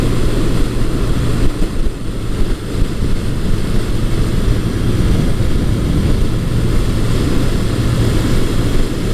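A 1980–1981 Suzuki GS1100E motorcycle engine pulls in top gear at speed with a loud, continuous low drone mixed with rushing wind, steady and unbroken for several seconds.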